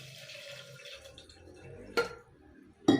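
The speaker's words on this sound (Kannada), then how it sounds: "ಆಮೇಲೆ ಈ ಬೇಳೆ ಬೇಯಷ್ಟು ನೀರು" Water pours into a pressure cooker holding lentils, tomato and turmeric, a soft running trickle followed by two sharp knocks of a vessel, no talking.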